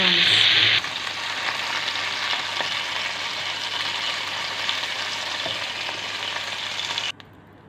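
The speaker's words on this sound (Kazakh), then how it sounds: "Ұнды қуырып, үстіне кілегей құйып" Flour frying in a pan left over from browning chicken legs, a steady close sizzle throughout with occasional faint stirring ticks, cutting off abruptly near the end.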